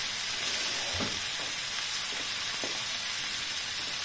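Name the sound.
a little water added to sizzling pan of lamb curry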